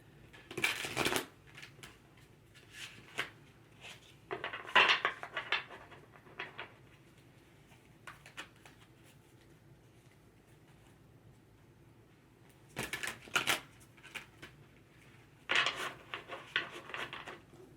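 Tarot cards are shuffled in several brisk bursts of papery riffling and slapping, close by, with quiet pauses between them.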